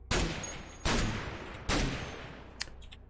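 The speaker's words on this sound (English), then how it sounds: "Keep shooting." Three loud, evenly spaced gunshots from a firearm in the roguelike game Cataclysm DDA, each a sharp broadband crack with a decaying tail, followed by a faint metallic click near the end.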